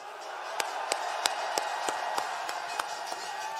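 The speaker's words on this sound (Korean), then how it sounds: "뜨거운 박수를 한번 보내주십시오" An audience in the rain in Busan applauds at an outdoor rally, with a steady wash of claps and crowd noise, broken by sharp, evenly spaced loud bursts.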